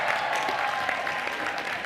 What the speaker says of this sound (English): can we give a round of applause for Rosh?